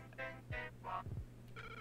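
A telephone rings in Link's Awakening for the Switch, bright electronic trill bursts repeating in short bursts with gaps, over a steady low game hum, moderately faint.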